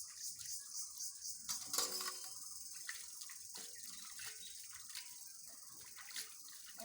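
Dishes and utensils are rinsed under a running kitchen tap, with a soft continuous stream of water, faint splashes and occasional clinks, all quiet and close.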